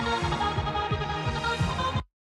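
A driving drum and bass beat with rapid snare hits rolling through a dense mix, cutting off abruptly into silence near the end.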